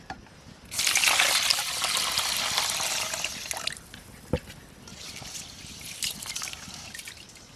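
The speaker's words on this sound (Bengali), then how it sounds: "তো চালটা এখন ধুয়ে নেব আমি" Rice being washed in water for village-style payesh, a close swishing and trickling of water and grains stirred by hand, with a louder rush at first, then softer splashes and drips.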